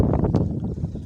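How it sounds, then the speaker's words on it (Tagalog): Loud, continuous wind buffeting the microphone, a low rumbling roar with gusty bursts throughout, no voices. "mga hangin na ito sobrang lakas ng hangin ngayon"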